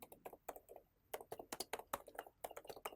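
Rapid keystrokes on a computer keyboard, typed in quick irregular bursts with short pauses between them, close and fairly quiet, with no talking.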